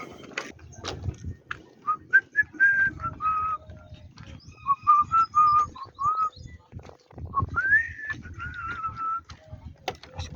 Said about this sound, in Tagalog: Sipol lang